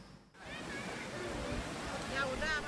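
Murmuring mountain spring water in a quiet green valley in Bali, a steady broadband rush of flowing water that holds close and continuous after a brief dip at the start, with faint bird chirps high above it.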